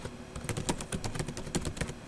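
Quick, irregular keystrokes on a computer keyboard during data entry, crisp clicking taps heard up close and alone, with a few louder key presses standing out.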